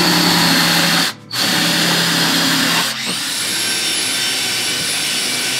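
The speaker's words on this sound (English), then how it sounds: "And took the sander to it to give it a little bit of contour to the edges." A power sander shaping the edges of a wooden toucan beak, running close and loud as a steady high whine, briefly stopping and restarting midway, with no voices.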